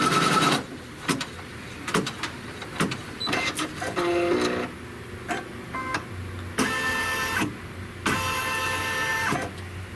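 A computerized embroidery sewing machine runs a seam on a leaf-shaped appliqué piece, producing a loud, close whirring hum with rapid needle clatter and brief higher-pitched bursts of motor activity.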